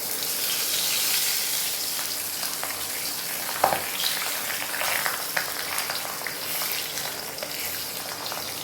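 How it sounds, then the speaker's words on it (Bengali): Pabda fish fry in a shallow layer of oil in a kadai, giving a constant close hiss of sizzling with occasional sputters and a brief clink of a utensil partway through, and no talking. "আমি একটু লাল করে দুটোকে ভেজে তুলে নেব।"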